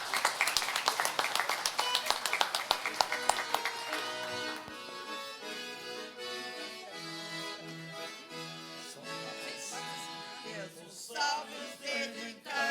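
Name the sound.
applause in council session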